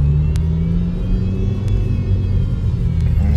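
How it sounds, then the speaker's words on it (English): A car drives through traffic with a steady low engine rumble and road noise from inside the cabin, continuous and fairly loud, with faint higher clicks now and then. "I'm over here driving in traffic."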